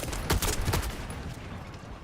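Rapid bursts of gunfire ring out in the video game The First Descendant, a loud close volley of several shots in quick succession that fades into a reverberant tail.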